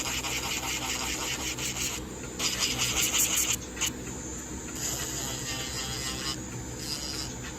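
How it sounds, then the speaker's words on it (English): A steady, gritty rasping of a nail sanding band filing an acrylic nail, continuous with brief pauses and shifts in pitch, close up. "So this is a medium sanding band, and this is just blending in like the cuticle area"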